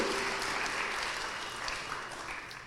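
An audience at a city council debate claps in a dense, sustained round of applause that gradually tapers off toward the end.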